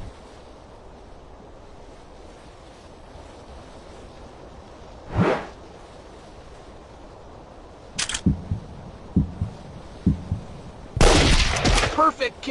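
Sniper rifle shots in a video game ring out as a few sharp, loud cracks spaced seconds apart, the last followed by a dense burst of impacts over a faint steady background.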